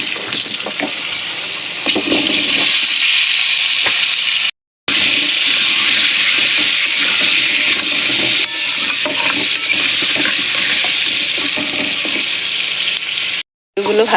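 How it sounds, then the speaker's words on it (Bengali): Potatoes fry in hot oil with turmeric in a kadai, giving a loud, dense, steady sizzle and rushing hiss that runs almost the whole time, broken only by two brief silent gaps. "একটু তেলে একটু হলুদ দিয়ে আলুগুলো ভেজে নেব।"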